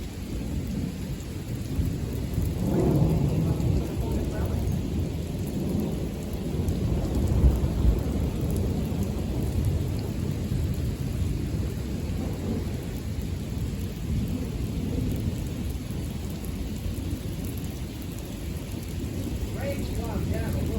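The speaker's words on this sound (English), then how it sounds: "Rain's gone down a little bit. Still coming down pretty heavy." Heavy rain pours steadily throughout a lightning storm, with rumbling thunder swelling beneath it. The roar of the downpour is constant and fairly close.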